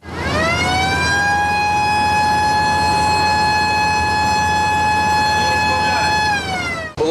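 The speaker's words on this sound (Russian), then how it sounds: "Для привлечения внимания была включена сирена." A border guard patrol boat off the Black Sea coast near Ilyichevsk sounds its siren, a loud, steady, sustained wail held for several seconds before cutting off, alone with background engine noise.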